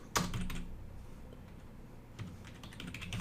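Keys clatter on a computer keyboard in a quick burst of strokes, then a pause and another short run of typing, close and fairly quiet.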